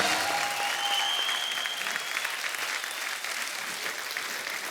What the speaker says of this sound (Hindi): एक बार जोरदार तालियां हो जाए चौबे साहब के लिए।